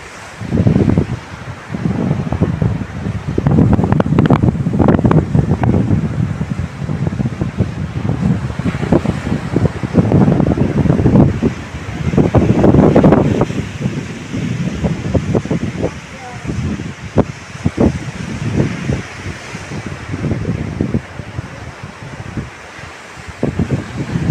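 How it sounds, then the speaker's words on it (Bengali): Ocean waves surging and breaking against rocks in repeated rolling swells, loud and close, with wind buffeting the microphone and faint voices in the background, at the meeting point of the Mahanadi river and the sea in Odisha. "ঢেউটা শব্দ শোনো"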